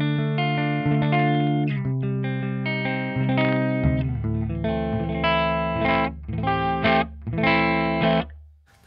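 A Jackson JS1X Minion electric guitar on its neck pickup plays a short run of plucked notes and chords, close and alone, ending in a brief fade.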